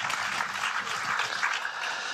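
A crowd at a public meeting opposing Linky electricity meters in Bobigny breaks into a brief, fairly faint burst of dense, continuous clapping lasting about two seconds.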